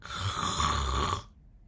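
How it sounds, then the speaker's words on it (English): A single drawn-out snore rumbles close up, a raspy vibrating breath that stops abruptly, leaving quiet. "snoring is a sound produced by vibration of the soft tissues of the upper airway"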